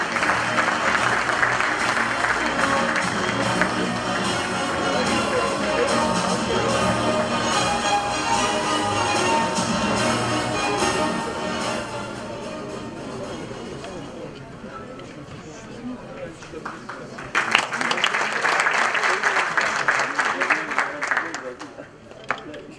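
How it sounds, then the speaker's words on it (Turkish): An audience applauds at a sports awards ceremony, sustained loud clapping from a crowd that fades, then surges again briefly before stopping. "Sayın Erol Güdülok büyük alkışlarınızla."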